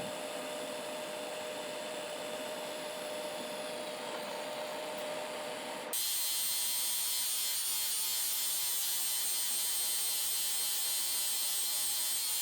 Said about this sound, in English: And then plug welding.